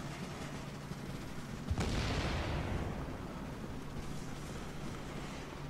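Heavy gunfire in a firefight in The Division, sounding as a sudden sharp burst that swells into a loud, sustained roar of shots and rumble, then eases to a steady background din, with no talk over it.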